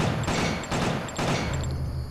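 Rapid gunfire from Khan's gun in Killer7: a loud, continuous rattle of shots with regular heavier bursts roughly every half second, and no talk.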